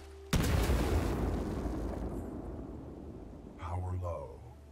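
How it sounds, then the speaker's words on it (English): A loud grenade blast in Titanfall 2 goes off abruptly and leaves a long rumbling decay, with a voice speaking briefly near the end. "I threw a grenade at you."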